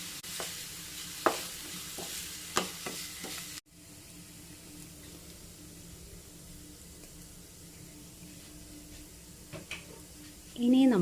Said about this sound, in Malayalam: നല്ലപോലെ ഒന്ന് വഴറ്റി കൊടുക്കണം.